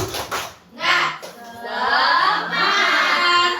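A classroom group of teachers or pupils claps and chants in unison for a rhythmic 'tepuk semangat' cheer, voices and hand claps loud and close, building into a sustained group chant.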